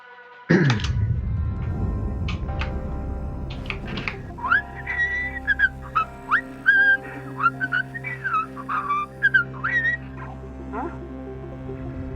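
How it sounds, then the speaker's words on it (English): A person whistles a meandering tune in short chirpy phrases, close and clear, following a sudden loud thump, with a low mechanical hum underneath, in a spaceship salvage game. "Who's whistling? No whistling!"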